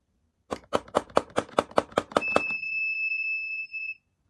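A vibration-sensor door alarm built on an ESP32, tripped by a forced break-in: a rapid series of about nine sharp knocks or impacts, then a steady high electronic beep sounding alone for over a second.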